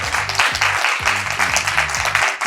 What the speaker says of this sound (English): Can the right-hand side of the room give the left-hand side of the room a massive round of applause